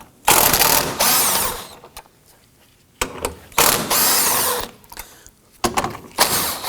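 An impact driver loosens and removes bolts on a 2018-2024 Toyota Camry 2.5L L4 during radiator work, with loud close bursts of rattling hammering separated by short pauses and quiet gaps.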